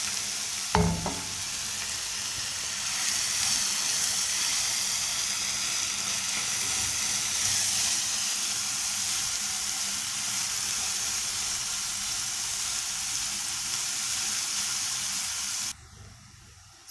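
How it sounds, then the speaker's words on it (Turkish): Onions and ground beef fry together in a pan for a béchamel pasta bake, a loud steady hissing sizzle opening with a sharp clank of utensil, continuing evenly before cutting off abruptly near the end. "Soğanlar, soğanlarımız hafiften balıştıktan sonra kıymamız koyup güzelce karıştırıyoruz"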